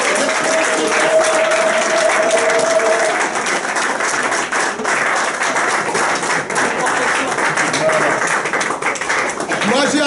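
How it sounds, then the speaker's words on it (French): Founders of a citizens' front applaud loudly at a meeting, a dense, steady burst of clapping lasting throughout with crowd noise and faint voices mixed in. "je demande aux fondateurs d'applaudir très fort"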